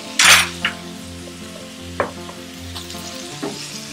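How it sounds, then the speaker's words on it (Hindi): Minced meat fries with onion, cumin and ginger-garlic paste over low to medium heat, a constant sizzle punctuated by a few sharp clinks of a spoon against the pan, close and clear with no voices. "लो टू मीडियम पे हम इसको फ्राई करेंगे प्याज के साथ और जीरे के साथ"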